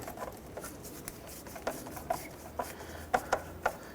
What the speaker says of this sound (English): let's go ahead and tighten down our hose clamps here